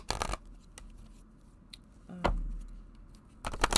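A deck of oracle cards is shuffled in quick riffling bursts at the start, middle and end, with quiet pauses between.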